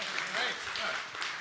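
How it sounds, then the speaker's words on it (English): Audience applause at a science summit in Singapore, a faint, brief patter of many hands clapping with voices mixed in. "A round of applause."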